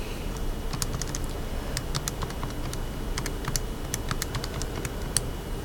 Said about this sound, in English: if I type all that in the calculator